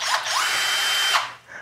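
An ENVENTOR 20V cordless 3/8-inch drill whirs up at close range, holding a steady high motor whine for about a second before spinning down, with a brief restart afterward; no one talks.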